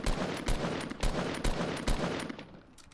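Rapid gunfire in Fortnite shooting down a built structure, loud repeated bursts of shots with sharp impacts in a fast irregular rhythm, no talk.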